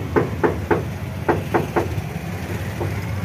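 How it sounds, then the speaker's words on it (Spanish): Hard knocks on a door, struck in a loose series of about six firm raps followed by one fainter rap, close by over a low background hum. "Tocando duro para que le den el café."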